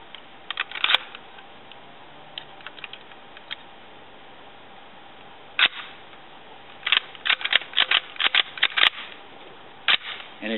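Metallic clicks and clacks from clearing a firearm malfunction and dropping the magazine. Sparse at first, then denser bursts of close, sharp handling noises with quiet gaps between them.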